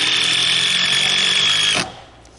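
A power drill drives large screws into a mobile home roof, a loud steady whine running close for nearly two seconds before it cuts off and leaves only faint room noise.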